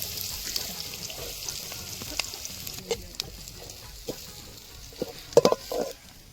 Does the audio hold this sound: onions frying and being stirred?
yes